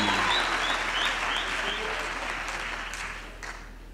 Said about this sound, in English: Can we also have a round of applause for the choir master,